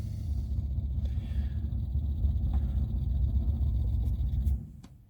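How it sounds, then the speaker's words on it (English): A steady low mechanical hum of a motorhome water pump building pressure runs throughout, then eases off near the end. "Hear the pump going, that'll build up pressure."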